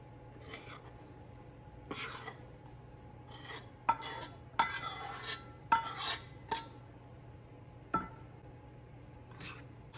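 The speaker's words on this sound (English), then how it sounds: "we're going to fold in our dry ingredients into our chocolate mixture here" A spatula folds dry ingredients into a brownie chocolate mixture in a bowl. Intermittent scraping and rubbing strokes come in short bursts with light clinks against the bowl, close and fairly quiet, with no voices.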